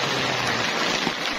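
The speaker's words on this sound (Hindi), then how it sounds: "अब सड़क के ऊपर बादल जमा हुए हुए हैं और बारिश भी हो रही है।" Steady rain falls on a mountain road under low-hanging clouds at Nathia Gali, a dense, even hiss of drops on the surface, close and continuous with no voices.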